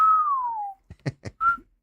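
A person whistles a long, falling tone to call a young girl named Avery, then follows with a few short voiced bursts and a brief rising whistle at the end, close and clear.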